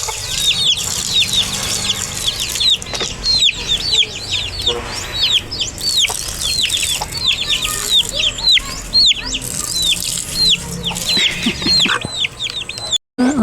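Chickens clucking loudly and continuously close by in a backyard garden, with a dense stream of repeated squawks and chatter, some rustling and wing flaps, lasting throughout.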